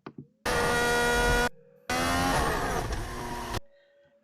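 Onboard engine of a Formula 1 car in third gear, two sustained loud high-pitched bursts of revving separated by a short dip, each cutting off sharply.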